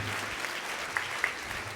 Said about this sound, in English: Maybe another round of applause for them,